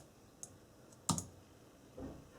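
Enter key pressed on a computer keyboard: a faint tick, then one sharp, close click, with a softer thud about a second later, in a quiet room.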